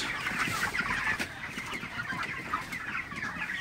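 Broiler chickens clucking steadily in a close flock inside a chicken house, overlapping calls over a constant low background rumble, no speech.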